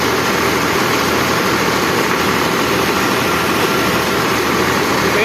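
A 2008 Al Ghazi 65hp tractor's diesel engine running steadily at idle nearby, a constant low rumbling drone with no changes in pace and no talking.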